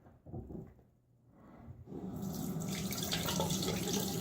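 Running water from a tap rinses shaving soap lather off fingers, starting quietly after a few small handling sounds and then swelling into a steady, close, loud splashing flow.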